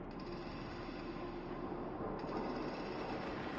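Fragmentum monster noise in the Honkai Star Rail video game, a steady dense hiss like white noise, droning continuously and evenly throughout with no breaks.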